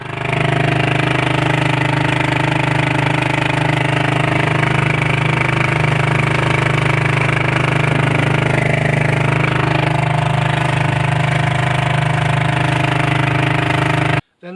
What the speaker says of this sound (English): this next clip shows the Bayhen motoring against the same 15-knot wind, 15 knots, at full throttle